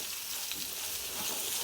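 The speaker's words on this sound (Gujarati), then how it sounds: "રાઈ મેથીના કુરિયા થોડા કકડે એટલે સમારી રાખેલા કેરીના ટુકડા ઉમેરી દેશું" Split mustard and fenugreek seeds sizzle and crackle in hot oil over a low flame, a faint, steady frying hiss with light popping and no voices.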